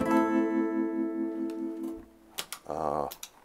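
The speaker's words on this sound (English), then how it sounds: "this is what's called a Tremolo pedal, and this cuts the volume on and off." A sustained guitar note rings out through a tremolo pedal, then a few choppy strums pulse rapidly in volume, fairly quiet and close.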